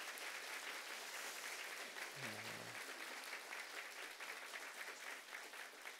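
Church congregation applauding during a Christmas service, dense steady clapping filling the hall at moderate volume, with a brief low voice murmur partway through.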